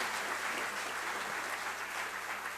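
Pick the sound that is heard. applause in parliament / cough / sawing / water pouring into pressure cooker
applause in parliament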